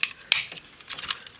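Plastic parts of a Hasbro Transformers x GI Joe Kup Triple T figure snapping into place during conversion, a few crisp close clicks and light rattles, quiet between them.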